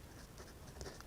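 A pen scratches across paper in soft, short strokes while maths working is written out, faint and close with no talk over it.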